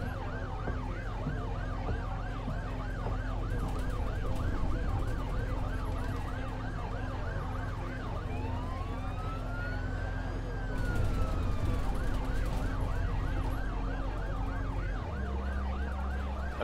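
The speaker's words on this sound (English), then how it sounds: "That police car is driving me insane." A police car siren in the OMSI 2 London bus simulator game: a rapid wailing yelp repeating steadily, briefly switching to a slower rising-and-falling wail midway, over low engine hum, fairly faint.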